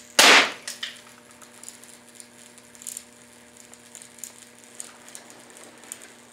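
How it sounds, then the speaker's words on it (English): A single sharp, loud gunshot fired at a plasma TV screen, followed by faint scattered clicks and debris ticks in a quiet room, with no speech. "Wonder what would happen if we shot the screen right now."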